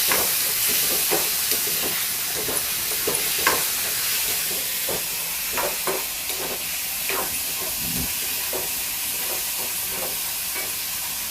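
Capsicum and green chilies sauté in a pan with a soft, steady hiss and scattered light scrapes and taps from stirring, with no talking.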